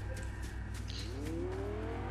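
Car approaching in the video game Fortnite, an engine tone rising in pitch as it nears over a steady low background hum, faint and without talking.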